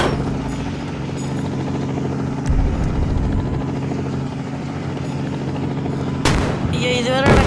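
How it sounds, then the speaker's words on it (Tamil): Helicopter in the Indian Bikes Driving 3D mobile game, a sustained droning rotor and engine hum with tonal layers, a sudden loud burst near the end with rising whine, and a voice talking over it. "ஹெலிகாப்டர்."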